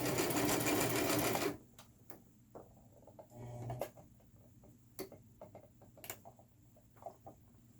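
Sewing machine stitching a frontal wig, a loud steady run of rapid mechanical stitching for about a second and a half, then stops, followed by scattered quiet clicks, taps and handling noises.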